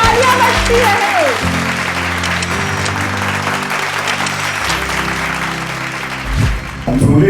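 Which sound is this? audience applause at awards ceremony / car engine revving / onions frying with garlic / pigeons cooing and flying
audience applause at awards ceremony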